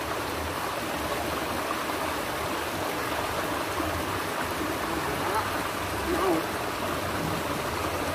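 Water running steadily from a spout beside a pond during a pomfret fishing contest, a constant close splashing rush with no breaks for the whole stretch.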